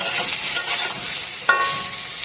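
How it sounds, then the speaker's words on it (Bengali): Cauliflower florets and potato pieces frying in oil in a pan for an egg and cauliflower curry, a steady close sizzle with light stirring and one sharper clatter near the end, no voices. "ফুলকপি আলুটা আমার ভালো করে ভাজা হয়ে গেছে,"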